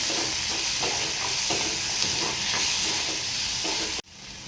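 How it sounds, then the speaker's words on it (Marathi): Tomatoes and chilli sautéed in a pan for a village-style dried bombil curry give a steady, close sizzle with rhythmic stirring scrapes, cutting off abruptly near the end. "टोमॅटो पण छान परतून घ्यायचं आहे."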